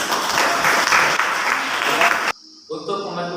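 A classroom of students claps together in a loud, dense burst of applause that stops abruptly, followed by a brief moment of voices.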